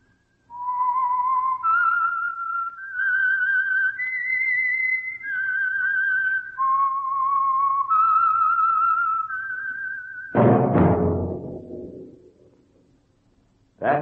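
A clear, melodic whistled tune of several sustained notes rises and falls, followed by a burst of orchestral music, on an old radio program.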